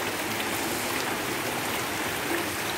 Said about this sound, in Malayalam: ദേ വെള്ളമൊക്കെ വരുന്നു കണ്ട ദേ പോന്നു വെള്ളം